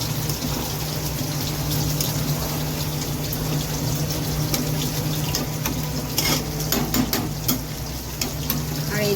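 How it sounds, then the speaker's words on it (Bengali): Meat sizzles steadily in a hot pan while being sautéed alongside a kitchen where hilsa fish is also frying, a continuous close crackling hiss with a low hum underneath and occasional sharper spatters. "এই দেখো এখানে মাংস কষাচ্ছি"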